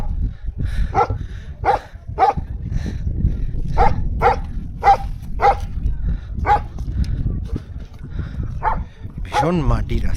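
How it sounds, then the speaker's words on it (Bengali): A dog barking repeatedly on a snowy, muddy mountain road in Auli, Uttarakhand, sharp regular barks close by over a low rumble of wind or footsteps, with a voice audible at points. "কত কিউট ডগিটা চিল্লাচ্ছে।"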